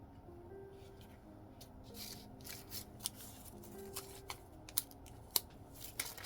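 Scissors trim paper for a handmade flower card: a run of quiet, crisp snips at an uneven pace, close by, with soft paper rustling between cuts.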